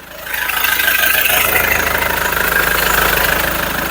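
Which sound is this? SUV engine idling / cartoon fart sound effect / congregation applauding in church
SUV engine idling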